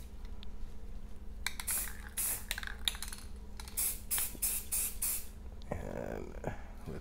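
An aerosol can sprays a third coat of paint onto an AR lower receiver in short, repeated hissing bursts with brief pauses between passes, fairly close and without talk.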